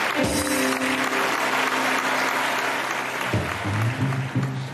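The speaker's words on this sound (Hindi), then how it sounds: "ताली हो जाए शो के लिए" Studio audience applauding on a game show, a loud, dense wash of clapping that fills the whole stretch, with some voices and tonal sounds mixed in underneath.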